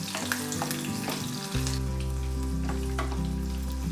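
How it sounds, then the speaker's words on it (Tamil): Dried Kashmiri red chillies frying lightly in oil over a low flame, a steady close sizzle running the whole time over a low, sustained background hum, with no one talking. "லைட்டாக வறுத்துக்கோங்க."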